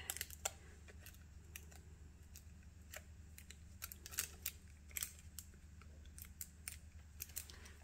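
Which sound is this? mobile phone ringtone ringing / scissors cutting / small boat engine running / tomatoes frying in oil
scissors cutting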